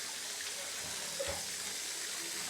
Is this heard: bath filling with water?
yes